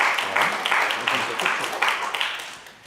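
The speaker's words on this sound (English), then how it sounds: "Round of applause." Graduation ceremony applause, a crowd clapping steadily and moderately loud for a few seconds, gradually fading toward the end.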